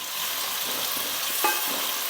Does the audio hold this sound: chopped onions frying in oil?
yes